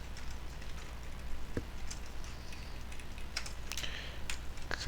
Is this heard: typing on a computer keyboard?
yes